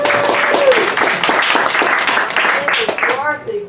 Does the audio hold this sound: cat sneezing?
no